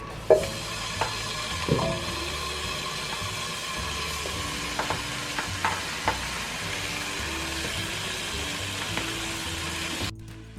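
Marinated chicken tikka sizzles and fries steadily in a pan, a continuous crackling hiss with occasional stirring clinks, close and fairly loud throughout with no talking.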